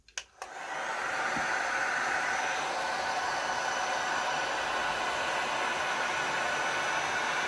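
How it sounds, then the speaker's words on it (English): A heat gun blows a steady, loud hiss of hot air over epoxy resin in turtle and anchor molds after a couple of brief clicks at the start, and it runs continuously without talk. "I'm going to come in with my heat gun and hopefully not wreck my molds"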